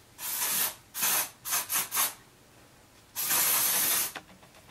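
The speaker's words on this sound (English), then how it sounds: "we're gonna take some of this texture spray. And let's just spray it all in" Several short hissing bursts of texture hairspray, one after another, followed by a longer spray, close by and fairly quiet.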